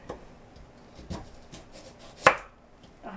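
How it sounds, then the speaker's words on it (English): A knife slicing through firm kohlrabi on a cutting board, a handful of sharp separate chops at irregular intervals with one louder thunk, close and fairly quiet, no voices. "So I like to just kind of slice it."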